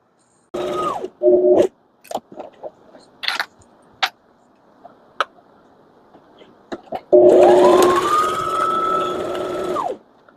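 A sewing machine stitches down both sides of fabric for a small organizer, with short bursts of whirring and mechanical clatter early on and a longer sustained run near the end. No one speaks.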